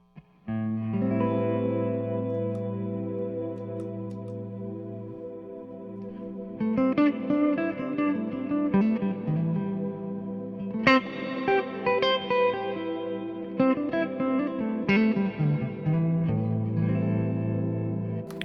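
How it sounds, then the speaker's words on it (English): A sustained synth pad holds a low chord while brighter synth notes step through a scale over it, with echo and shimmer, no voices. "I'll play a pad underneath, which I can then play the scale over"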